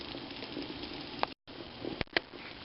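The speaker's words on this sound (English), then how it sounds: "It seems to have a really steady boil with this stove." Coffee percolates on an ultralight camping stove, a steady close bubbling hiss with a few sharp clicks and a brief dropout midway, no talking.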